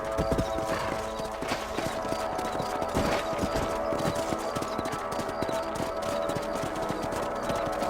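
Horse hooves clip-clopping in Red Dead Redemption, a steady rapid rhythm of hoofbeats close up that continues without pause, with occasional snorts and no talk.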